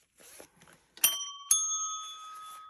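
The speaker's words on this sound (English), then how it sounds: "Ring the bell." A bell is struck twice in quick succession, each a bright, clear ding whose ringing tone sustains and slowly fades, preceded by a few faint handling noises.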